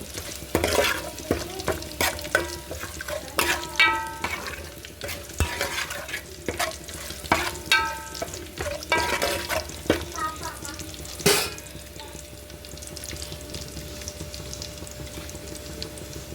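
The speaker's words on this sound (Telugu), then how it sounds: "జీలకర్ర ఎల్లుపాయ వేగింది" Cumin and garlic fry in oil, sizzling steadily in a pan while a spoon scrapes and stirs in repeated strokes, with faint clinks of metal.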